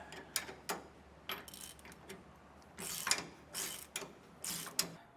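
A ratchet snugs down rear anti-sway bar bolts on a 2023 Thor motorhome, clicking in short uneven bursts of rapid pawl ticks with pauses between strokes, close and fairly quiet.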